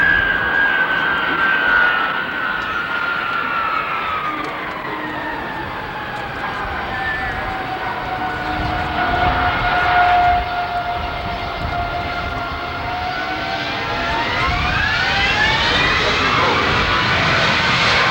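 Military aircraft flying past at the Westover Air Force Base airshow in 1990, a loud sustained engine roar with a whining tone that bends downward and then rises again as the plane passes.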